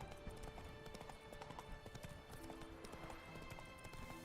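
In-game horse hooves from the Witcher 3 clip-clop steadily for several seconds, a dense trotting rhythm over a busy game soundscape of ambient music and background noise.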